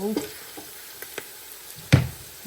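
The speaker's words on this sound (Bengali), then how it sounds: "এখন আমি এটার ভিতরে আমার চালগুলো দিয়ে দেবো" Rice is stirred into browned onions in a hot pan, with a faint sizzle beneath a few scraping clicks and one sharp knock of a utensil against the pan.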